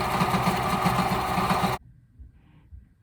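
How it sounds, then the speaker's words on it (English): A sewing machine zigzag stitching braids for a carpet, its needle out of alignment, running in a fast, close, rhythmic mechanical whir for under two seconds before stopping to near silence. "So my sewing machine needle is out of alignment, which means that when I'm zigzag stitching"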